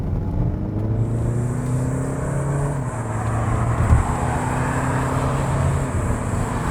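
A 2021 Hyundai Santa Fe with a 2.2-litre diesel engine and AWD accelerates, its engine note rising steadily in pitch through the gears with a low rumble, heard close and fairly loud over tire and road noise, with no talking.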